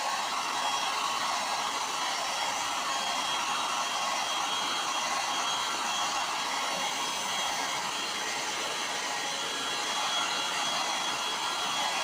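Hot air from a heat gun set on high streams over the plastic top tank of a leaking radiator, a constant close blowing hiss with a faint motor whine, held evenly throughout with no speech.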